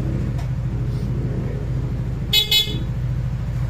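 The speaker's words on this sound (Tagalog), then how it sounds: "Testing mo natin yung busina." Two short honks from a Yamaha NMAX scooter horn, tested after rewiring, sound out over a steady idling engine rumble nearby.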